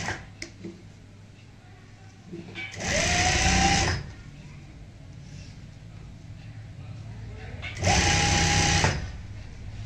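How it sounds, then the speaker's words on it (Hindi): A sewing machine stitches lace onto a neck design in two loud, steady runs of about a second each, separated by quieter handling noise and a voice speaking. "यहाँ पे भी सिलाई लगाएंगे"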